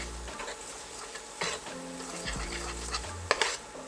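Cashews toasting in a dry pan, a soft sizzle and crackle with light stirring and a few pan clinks, fairly quiet and close.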